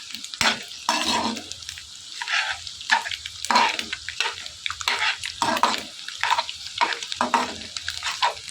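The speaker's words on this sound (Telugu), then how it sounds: "ఇలా మిక్స్ చేసుకుని ఫ్రై చేసుకుని ఇందులో కొద్దిగా జీలకర్ర వేసుకోవాలి." Egg noodle mixture with cumin sizzles steadily in a pan while a utensil stirs and scrapes in repeated rhythmic strokes, close up with no talking.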